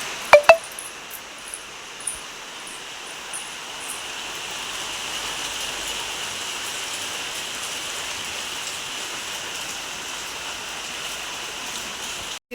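Rain falling outside a house, a steady even wash of drops heard through an open window, with a few sharp knocks near the start and no voices.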